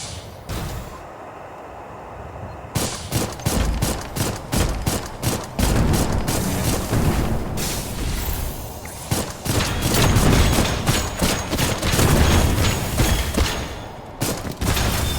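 Missile launch and explosions in the shooter game Dolls Nest, set in a water treatment level: a dense, loud run of blasts and rapid bursts of fire that pile up closely from about three seconds to the end, after a quieter start.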